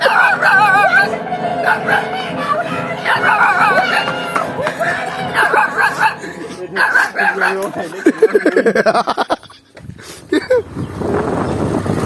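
A dog barks and yips in short bursts while a harmonium plays nearby and people talk and laugh, the barks coming loudest toward the end.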